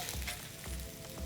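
Fresh halibut frying in a hot cast iron pan, a soft steady sizzle with small crackles and pops, close and fairly quiet.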